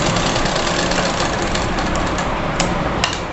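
A sewing machine runs continuously, stitching a zipper onto a child's frock, with a dense, fast mechanical rattle and thrum at close range and a few sharper knocks near the end.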